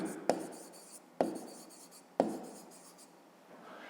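A pen scratches across paper while working a fifth-grade math exercise by hand, in three quiet bursts, each starting with a tap and trailing off into steady scratching, close up with no talk.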